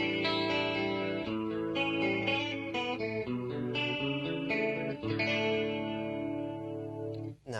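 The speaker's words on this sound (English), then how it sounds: "And we have a chorus sound." An electric guitar runs through a chorus pedal effect, a shimmering, slightly detuned sequence of chords and notes played continuously, with a warm wavering tone and no talking.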